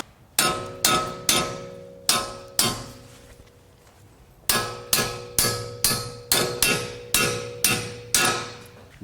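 Hammer blows punching bolts out during a lift kit install on a Ford Maverick, a steady run of loud, ringing metallic strikes in two bursts, about a dozen hits with a short pause between groups, no talking.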